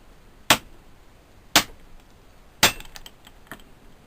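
A bearing race used as a driver is hammered to push out a U-joint from a Jeep Cherokee axle: four sharp metallic strikes about a second apart, close and crisp, each with a brief ring, the last one softer.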